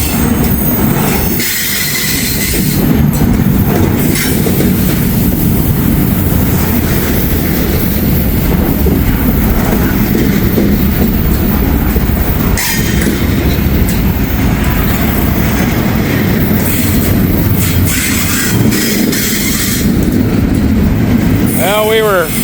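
Massive freight trains grind up a steep grade in a loud, continuous rumble of railcars, with wheels squealing and clacking throughout and a voice talking over it.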